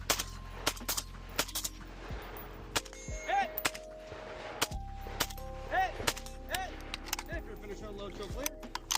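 Rifle gunshots during a shooting stage at an AK match, likely AK-pattern rifle: a string of sharp, loud cracks at irregular intervals over a quieter background with metallic clinks and faint voices.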